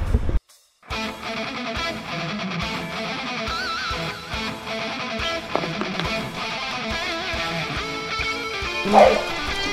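A dog barks and whimpers close by in short yips and yelps, scattered over a continuous, busy tonal background.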